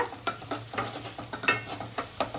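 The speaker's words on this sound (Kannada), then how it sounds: "ಈಗ ನಾನು ಖಾರಕ್ಕೆ ಒಂದು ಐದು ಹಸಿಮೆಣಸಿನ್ಕಾಯಿನ ನೋಡಿ ಹಾಗೆ ಉಂಡೆ ಸಮೇತ ಹಾಕ್ಕೊಳ್ತಾ ಇದ್ದೀನಿ" Whole green chillies go into onions frying in a pan for a ghee boneless chicken dish. Rhythmic spoon stirring scrapes over a soft, close sizzle, with no talking.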